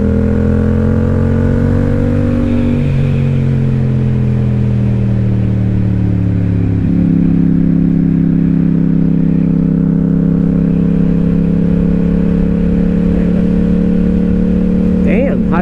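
Several motorcycles ride together on a chilly, windy day. Their engines drone loudly and steadily and shift pitch as they rev, with heavy wind noise over the whole passage.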